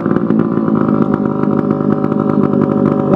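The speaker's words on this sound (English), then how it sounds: "See if I can start this one-handed." Hangkai 3.5 HP outboard motor running warm with the choke off, a loud close-up buzzing rattle at a steady fast idle that holds throughout with no voices.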